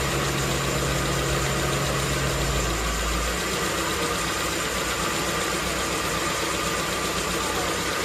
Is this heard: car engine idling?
yes